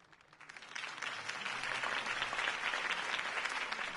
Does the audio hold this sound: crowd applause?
yes